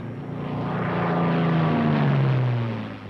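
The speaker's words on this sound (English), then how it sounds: "The plane feels normal now that it's off the ground." A P-51 Mustang's piston engine drones loudly in flight, a steady propeller roar that swells in the middle as the tone slides slightly downward, like a close pass, with no talk.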